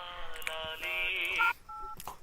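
Telephone keypad tones from a Telugu comedy film scene: a long, steady dialing tone lasting over a second, then a shorter pair of beeps, fairly quiet with faint background noise.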